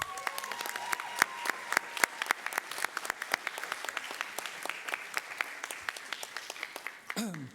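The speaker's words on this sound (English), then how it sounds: "Let's give a round of applause for Ms." An audience at a school district ceremony applauds an Orange Vista High School educator of the month, with moderate scattered clapping that thins out, ending in a brief shuffling noise.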